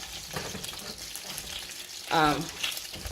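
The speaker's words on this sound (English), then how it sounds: "I want to scrape it all up" Metal utensil scrapes browned bits across a hot copper skillet while making chicken Marsala, a brief harsh grating burst over a steady background sizzle.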